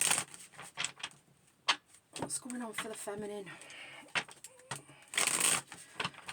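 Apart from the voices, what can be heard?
shuffling tarot cards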